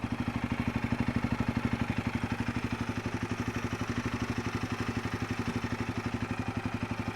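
A Royal Enfield Himalayan 450 motorcycle engine idles with a steady, rapid thumping pulse, a low rhythmic exhaust beat that holds evenly throughout, close by.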